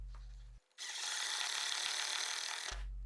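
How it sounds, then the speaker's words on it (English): A power driver whirs steadily for about two seconds as screws are driven from the back into a red oak sword wall hanger, a close, even mechanical buzz with quiet before and after. "I'm adding a couple screws from the back into each of the holders just to help out"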